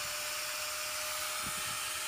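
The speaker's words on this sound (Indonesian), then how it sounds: "untuk projinya masih kurang lebar, maka kita harus lebarin lagi menggunakan gerinda." A rotary grinder widening the projector hole in a Yamaha Vixion headlight lens, a steady high-pitched whine running throughout without pause, close and fairly loud, without talk.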